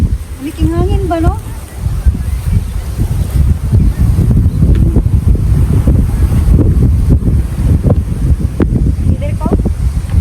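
Gusty wind buffets the microphone in an open park near a fishing spot, a steady low rumble running through the whole stretch, with people talking over it.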